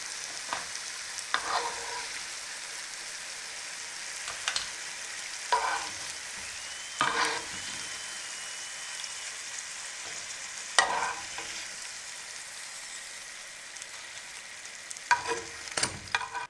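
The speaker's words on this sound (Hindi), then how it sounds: "अब इसी तरीके से हम तमाम फ्राई कर लेंगे।" Pure gram flour bhalle fritters frying in hot oil give a steady close sizzle, broken by occasional scraping and stirring clatters from a utensil in the pan, with no voices.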